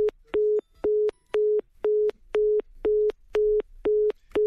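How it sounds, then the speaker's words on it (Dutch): Telephone busy signal as a call breaks off: a steady run of about nine evenly spaced beeps, each a single tone with short gaps between, clear and close with no talking over it. "Bel, baka want Brada Maknak bel met op contra telefoon, want a gesprek komt broko."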